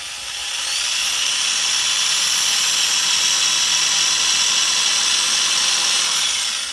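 A power drill boring into dragon fruit cactus for grafting, a loud steady high whine that ramps up, holds for several seconds and then winds down, heard close with no talking.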